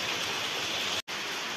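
A heavy downpour hisses in a loud, unbroken wash of rain, briefly cut off for an instant before resuming just as strong.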